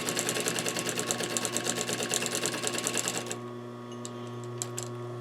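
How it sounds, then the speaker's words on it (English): A sewing machine stitches through fabric layers of a bench cushion in a fast, steady mechanical rattle for about three seconds, then stops, leaving a low hum and a few light clicks. "I'm only stitching the fabric layers here. And I'm keeping the batting out of the way."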